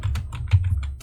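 A short run of crisp, close keystrokes on a computer keyboard at a PC running Age of Empires Gold, roughly half a dozen distinct clicks over a steady low hum.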